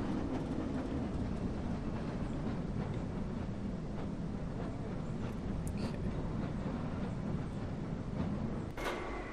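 A train rolls along rails in the Black Mesa game, a steady low rumble and rattle that drones on evenly throughout, with a faint clank near the end.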